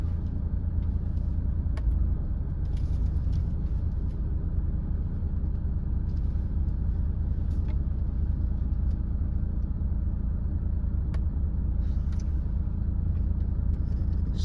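A driving school car on a road in Jönköping during a driving test, heard as a steady low engine and road rumble from inside the cabin, with faint clicks now and then.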